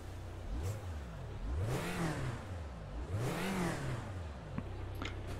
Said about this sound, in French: On va mettre un petit coup de démarreur